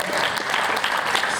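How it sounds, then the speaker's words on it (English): Brief burst of dense audience applause at a youth congress session, steady and fairly loud with no voices over it. "Give them a round of applause"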